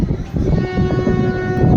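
Amrit Bharat Express pulling into Varanasi station, a loud, close rumble of the train with a sustained tonal horn-like drone running through the whole brief stretch; no talk.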